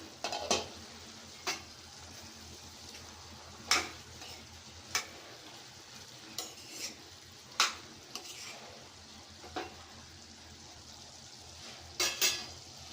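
Bottle gourd curry cooking in a pot, a soft steady bubbling and sizzling bed broken by scattered spoon clinks and scrapes against the pot, close and fairly quiet, no talking.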